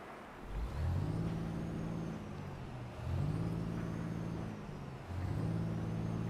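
A CX11 truck engine in American Truck Simulator revs three times in a row, each rev a deep, rising-then-settling roar, moderately faint and heard alone.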